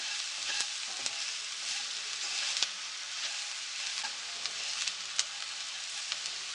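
Onions and spices frying together in a pan for potato samosa filling, giving an even, close hiss of sizzling with light periodic spoon scrapes and a sharp clink at the very end.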